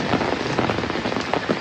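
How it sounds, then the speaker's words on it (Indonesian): Heavy rain pours down over a rural village, a loud, close, continuous hiss of drops drumming on surfaces with no voices. "kita dengarkan suara germecik hujan dan melihat kampung pedesaan yang sangat indah"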